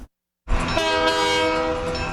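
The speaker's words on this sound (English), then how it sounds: "Some people maybe can't stand that much train whistles" A Straits 'Fair Train' bound for the Erie County Fair sounds its whistle: after a brief silence, a loud, sustained, harmonically rich horn blast holds steady and close.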